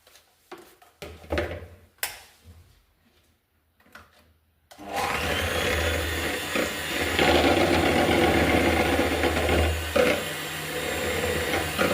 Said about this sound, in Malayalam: ഒരു ടീസ്പൂണ് വാനില എസൻസ് വെച്ച് കൊടുക്കുകയാണ് ഒരു ടീസ്പൂണാണ് ഇനി നന്നായി ബീറ്റ് ചെയ്തെടുക്കാം